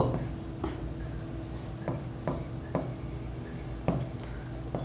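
A pen scratches figures by hand in short, rhythmic strokes, close and fairly clear, while a teacher works through an accounting exercise.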